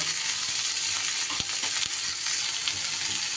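Vegetables fry in a sizzling pan, a bright continuous hiss close up with a few sharp clicks and taps of a spoon or pan scattered through it.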